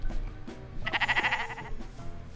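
A Minecraft sheep lets out one short, wavering bleat, fairly close, over faint game background noise.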